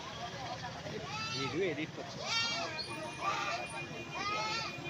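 Several wavering Black Bengal goat bleats rise and fall over a few seconds at the Uluberia goat market in India, mixed with nearby human voices and background chatter.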